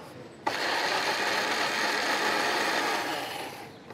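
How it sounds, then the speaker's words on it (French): An electric mixer blends potato waffle batter in a kitchen, switching on abruptly and running as a continuous steady whir for about three seconds before tapering off, with no talk. "Et on va pouvoir mixer le tout."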